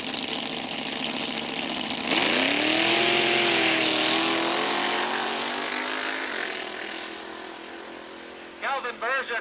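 Drag racing cars at a drag strip during a Super Eliminator round, with a loud engine roaring and climbing in pitch as a car launches, then fading, while an announcer talks over the noise.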